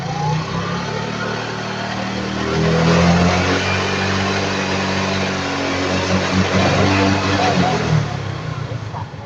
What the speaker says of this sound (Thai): เสร็จแล้วอยากจะเร่งเต็มที่แค่ไหนก็เอาครับ